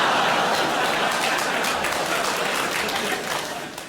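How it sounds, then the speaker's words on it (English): A child applauds loudly within a comedy-club audience, the clapping merging into a dense, sustained wash of crowd applause that stays loud and steady before easing slightly at the end. "the fact a child has applauded that very loudly"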